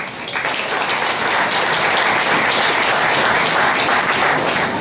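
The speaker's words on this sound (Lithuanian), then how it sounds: "plojimais pakvieskime savo pranešimą mums pristatyti Audrių Janulį." An audience applauds steadily and loudly for about five seconds, welcoming a speaker onto the stage at the What's Next? 2016 tech conference. The dense clapping holds at an even level throughout, with no talk over it.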